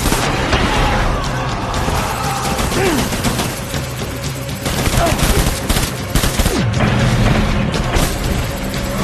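Heavy sustained gunfire and explosions in the video game Death Stranding Director's Cut, a dense continuous barrage of shots and booms filling the whole stretch, loud and close, with a voice shouting commands over the battle.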